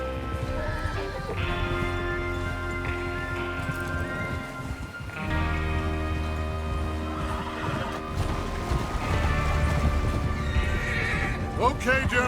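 Horses in the Red Dead Redemption 2 video game whinny repeatedly, with hooves clip-clopping and tack rustling close by as a group of riders sets out.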